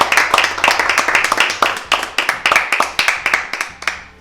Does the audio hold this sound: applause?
yes